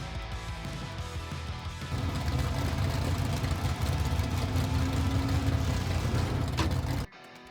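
A car engine in the video game Teardown idles, then settles into a louder, steady running drone with a faint tonal whine, before cutting off abruptly near the end; no one speaks.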